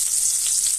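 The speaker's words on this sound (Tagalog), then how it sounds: "Pritohin natin ating talong." Steady, bright sizzling of eggplant frying in hot oil, close and continuous, with no voices.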